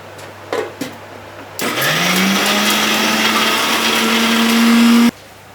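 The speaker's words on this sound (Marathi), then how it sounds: "इथे आता आपण लसूण, अद्रक, कोथिंबीर याची पेस्ट करून घेऊया।" A blender grinds garlic, ginger, coriander and green chilli into a paste, starting abruptly after a few small knocks and running as a loud, steady whir with a rising motor pitch for about three and a half seconds before cutting off.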